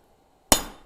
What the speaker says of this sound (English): now hammer straight